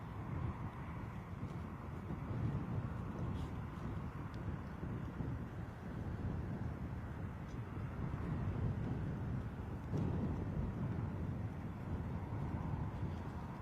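A Ryanair airliner departs Bristol Airport in a crosswind, its distant jet roar a steady broad rumble mixed with gusty wind buffeting the microphone, with no voices over it.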